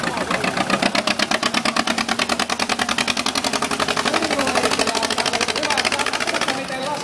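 A vintage tractor engine idles at a veterans' machinery show in Oulainen, a loud, even rapid chug pulsing steadily throughout, with people talking nearby.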